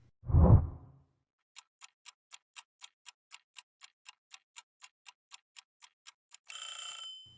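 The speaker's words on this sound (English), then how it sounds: "And now I'll set a timer for you to solve it on your own." A countdown timer ticks in a steady, even rhythm, about twenty crisp ticks roughly a quarter second apart, after a soft opening whoosh. It ends in a short bright ringing chime, with no voices.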